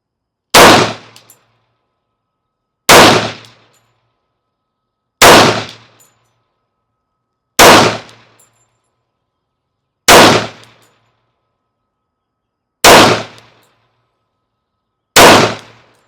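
An FNX-45 handgun fires seven evenly spaced, loud, sharp shots at targets 21 feet downrange on a range, each report decaying quickly into silence about two and a half seconds apart.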